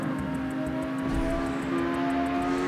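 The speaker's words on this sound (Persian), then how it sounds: "چه صدا نیترو تمیزه" A car's nitro boost in the CarX Street racing game sounds as a sustained engine whine with a bright tonal hum and a rhythmic pulsing hiss, steady and close, with no speech.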